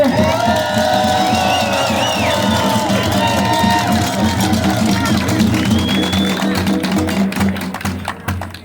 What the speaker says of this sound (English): Would you give a warm round of applause to Mr. Chris Schaefer?